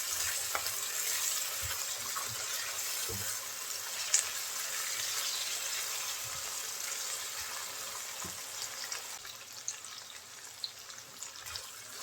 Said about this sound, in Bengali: শুটকি দিয়ে পেঁয়াজ রসুনের সাথে ভেজে নেব যাতে শুটকির গন্ধটা চলে যায়